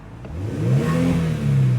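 2018 Kia Stinger all-wheel-drive car, engine revved twice in quick succession: rising, throaty swells heard up close and fairly loud, with a brief dip between the two pulls and no voices.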